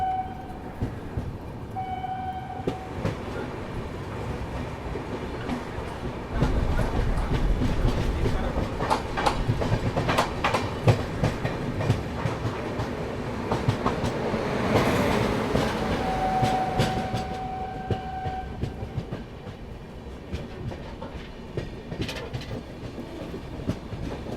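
A Garib Rath Express train running from Lucknow to Raipur gives a steady rumbling rush of wheels on rail with rattling and clacking, swelling louder midway, and a couple of brief tonal whistle-like notes.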